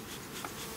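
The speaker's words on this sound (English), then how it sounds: "There's a lot of bees up in here" Honey bees buzzing densely around an open beehive box with frames during a honey flow, a close, continuous, even drone with no talking.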